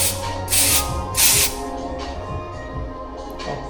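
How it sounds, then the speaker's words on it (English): Hair spray from a salon aerosol can after a haircut, two short hissing bursts close by, followed by quieter salon background sounds. "And some spray in the end."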